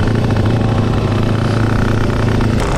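A motorcycle fitted with a KBRS racing exhaust runs at a steady idle, a loud close throbbing drone with a dense low rumble, no speech.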